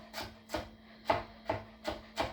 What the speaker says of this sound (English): So I've got about 3 cloves of garlic right here that I'm going to chop up